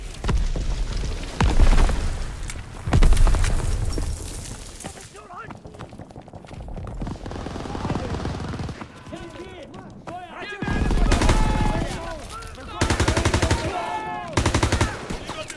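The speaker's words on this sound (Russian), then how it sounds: "Пулеметы все еще стреляют по берегу!" Machine-gun fire rakes a beach in a Call of Duty WW2 battle, loud bursts of rapid gunfire mixed with booms and explosions, with shouting voices and music-like swells between the volleys.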